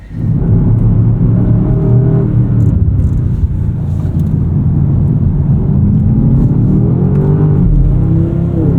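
A 2025 BMW M5 engine accelerates hard on a race track, making a loud, continuous roaring drone whose pitch climbs and settles through the revs, heard close with no talking.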